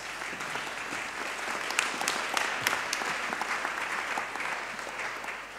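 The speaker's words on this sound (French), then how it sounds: "Je ne voulais pas interrompre les applaudissements." Steady applause from an audience at an evening round-table event on climate and democracy, a fairly quiet, continuous wash of clapping with a few sharper claps standing out.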